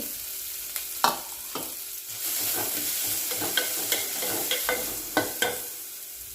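Crushed cumin and garlic fry with onions in a pan, a bright steady sizzle broken by several sharp scraping stirs of a spoon against the metal, close and without talk.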